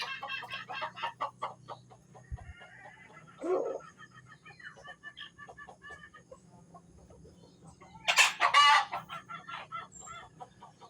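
A small pure labuyo jungle fowl rooster clucks in short bursts near the listener, with louder squawking notes partway through and a faint low hum behind.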